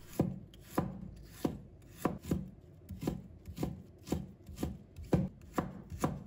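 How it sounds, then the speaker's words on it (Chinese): A knife shreds a piece of ginger on a cutting board in about eleven crisp, evenly spaced chops, each followed by a short soft scrape, close and clear. "再准备一块生姜，把它切成丝"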